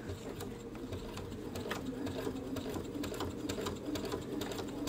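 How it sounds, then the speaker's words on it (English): A Brother Baby Lock sewing machine fitted with an edge joining foot stitches steadily, its rapid even needle rhythm running close and continuous with no pauses or talking. "now I'm just going to stitch from the front"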